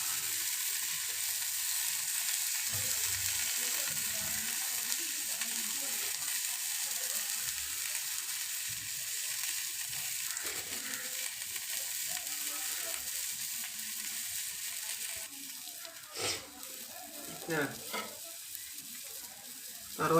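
Prawns fry in a pan with a continuous bright sizzle, close and even, with a few clinks and stirring noises toward the end.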